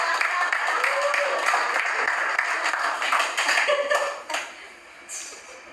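Audience applause for a stand-up comedian, a dense spread of clapping that runs steadily for several seconds, then thins and fades near the end.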